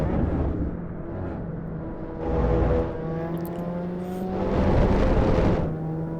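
A VW GTI race car engine drones steadily at speed around the Imola track in a racing video game, rising in two swells as it revs, loud and continuous with no talk over it.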